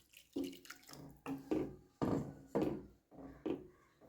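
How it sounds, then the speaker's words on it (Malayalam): Water is poured little by little into a bitter gourd masala curry, making quiet, repeated splashing bursts separated by short pauses. "ഇതിനകത്ത് വെള്ളം കുറേശ്ശെയായിട്ട് ഒഴിച്ചു കൊടുത്താൽ മതി"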